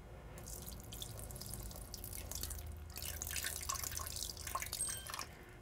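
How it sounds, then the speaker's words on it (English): Water is poured from a glass into a blender jar while a banana, pear and kale smoothie is being made, giving a steady splashing, trickling pour that lasts for several seconds close to the mic. "Watch what happens when I add the water."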